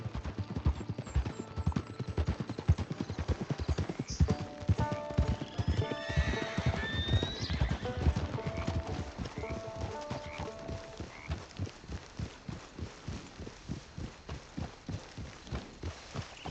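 Horses in the video game Red Dead Redemption 2 gallop with a fast, driving hoofbeat rhythm while whinnies and snorts rise over it midway, then the hooves settle into a steadier, slower beat.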